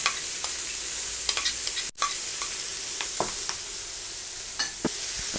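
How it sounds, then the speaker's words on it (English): A spoon mixes guacamole with an onion lime mixture, giving soft wet squelching and light scraping strokes over a steady hiss, with a few sharper clicks of the spoon against the bowl. "Mix it up."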